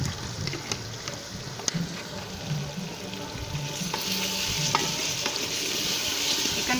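Chicken pieces frying and being stirred with chili masala in a pan, a steady close sizzle under scraping, with occasional spoon knocks, rising slightly in intensity toward the end, no talking.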